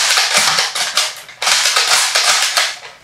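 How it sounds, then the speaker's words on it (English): Nerf Strongarm foam dart blaster slam-fired in a rapid string of six sharp, loud mechanical shots, each a snappy spring-and-plunger crack, with no talking. "if you just hold down the trigger and then you just keep pounding, you can fire 6 shots just like that"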